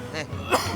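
One short, rough cough bursts out close by, a quick throaty hack amid background sound from an Indonesian street-side comedy scene.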